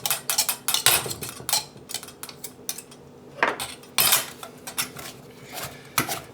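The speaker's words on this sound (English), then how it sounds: "it helps to have a butter knife to scrape down your pastry cutter like this" Butter knife scraping and clinking against a metal pastry cutter while making pastry, a run of quick close metallic scrapes and taps in uneven bursts.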